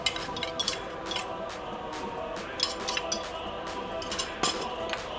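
A utensil stirs asam laksa soup with sardines in a pot, giving repeated light metallic clinks and scrapes in an irregular rhythm over a steady background hiss.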